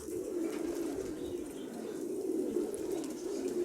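Pigeons coo in a low, continuous murmur, several birds close by, with soft wind noise from strong wind in the background.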